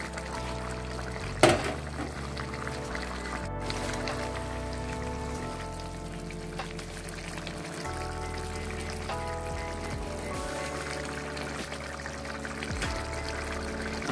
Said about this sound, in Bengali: আমি দিয়ে দেব ভেজে রাখা মাছগুলো।